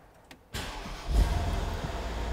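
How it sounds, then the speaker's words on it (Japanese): A 2012 Mercedes-Benz SL550 BlueEfficiency Edition 1 with AMG Sports Package cranks and fires up, then settles into a steady, deep, close engine rumble. "エンジンの方かけていきます。"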